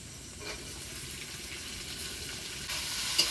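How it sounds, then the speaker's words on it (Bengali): Chopped tomatoes stirred into a pan with turmeric and salt for a flattened-rice pulao, giving a faint, steady frying hiss with soft stirring throughout and a slight rise near the end. "এবার একটু নেড়ে চেড়ে ভেজে নেব"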